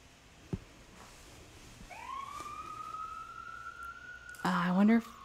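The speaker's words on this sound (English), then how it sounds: "I wonder if y'all hear those sirens outside." A siren rises and wails steadily in the distance, growing louder over a few seconds before a brief close clatter near the end.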